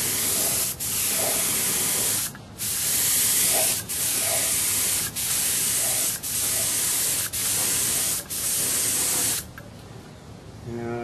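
Spray painting a model Corsair with light coats from an airbrush or spray can: a series of steady hissing bursts, each a second or so long and separated by brief pauses, close and loud, with the final burst trailing off.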